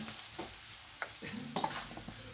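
Hot oil poured over mixed pickle spices in a bowl, a brief close sizzle with soft stirring scrapes, no talk.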